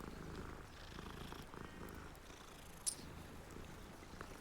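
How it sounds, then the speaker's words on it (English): A cat purring softly and continuously while being petted in the video game Hogwarts Legacy, a low steady rumble with one brief sharp click partway through and no talking. "We gotta start our day off petting a cat."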